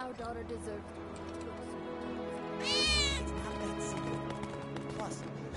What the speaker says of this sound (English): That was definitely a cat.